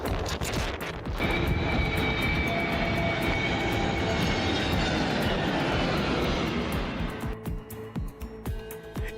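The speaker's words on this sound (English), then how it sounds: "jet roars in just a few feet above stunned onlookers, skimming past rooftops before slamming down on the short runway" A jet airliner roars in just above the rooftops to land on a short runway, a loud sustained engine roar with a whining tone that swells, holds, then fades as it passes.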